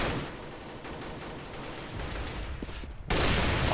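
Counter-Strike gunfire on the de_inferno map during a professional match, with a dense crackle of rapid shots blending into continuous noise, steady and fairly loud, then a sharper, louder burst near the end.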